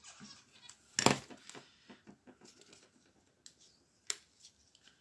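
Fabric is cut for a custom T-shirt, one sharp loud snip near the start and another later, set among faint rustles and small handling taps in a quiet room.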